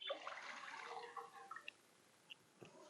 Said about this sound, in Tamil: தண்ணி இதில் ஊற்றுறேன்.